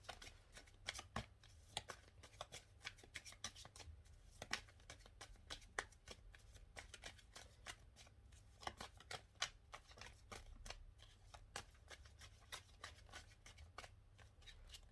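Tarot cards are shuffled and pulled close up, giving a steady patter of quick, crisp riffling and snapping clicks. The sound is quiet and carries on without pause, with no talking over it.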